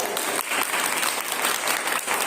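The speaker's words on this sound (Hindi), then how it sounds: "जोर से ताली बजाइए" Loud, dense applause from an audience at a Hindi religious teaching session, continuous crowd clapping filling the whole stretch with no talk over it.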